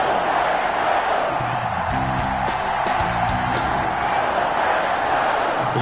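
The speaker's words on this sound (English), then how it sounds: "This crowd is ready as their guys get set to match up between the Carolina Panthers and the Green Bay Packers." Steady stadium crowd roar from an EA Sports NFL video game before a Carolina Panthers versus Green Bay Packers matchup, a continuous dense wash with some louder swells and a few whoops.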